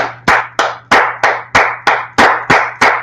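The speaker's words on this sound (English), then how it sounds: "Let's clap it up for the Lord." Steady rhythmic hand clapping from an audience at a religious brotherhood class, about nine sharp claps in even time, loud and close, with a low steady hum underneath.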